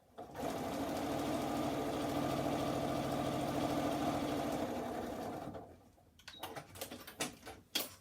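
A sewing machine stitches a strip of fabric in a steady, close mechanical whir lasting several seconds, then stops, followed by a few light handling clicks and taps.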